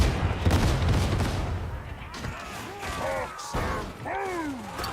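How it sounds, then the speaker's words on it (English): Grenade blasts and heavy gunfire in Warhammer 40K Darktide, a dense rumbling barrage that eases off midway, then further booms with someone talking over the action. "Let's throw another grenade."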